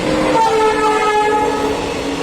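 A train passes through Jhapter Dhal railway station, a loud close rumble with sustained horn-like tones, steady throughout and without voices.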